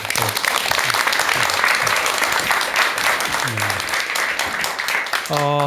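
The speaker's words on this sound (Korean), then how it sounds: "큰 박수와 함께 박사님의 강의 청해 듣도록 하겠습니다." Steady, dense applause from a lecture audience welcoming a doctor's talk on the Buddha, loud and continuous for several seconds, with a voice briefly heard at the very end.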